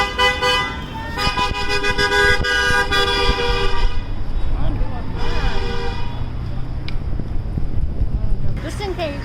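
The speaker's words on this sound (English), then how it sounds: "I understand people are like honking" Car horns honk at a Beverly Hills Trump rally, long blaring toots in bursts, near and loud, with street noise and voices underneath.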